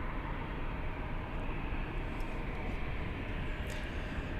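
Thai Airways Airbus A350 jet at Munich airport, a steady broadband engine roar at moderate distance with no talk.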